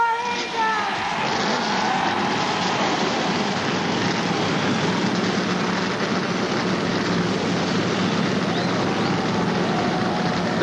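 A full field of stock car engines starts at the 1991 Heinz Southern 500, a steady, dense roar of many motors blending into one loud rumble that holds throughout.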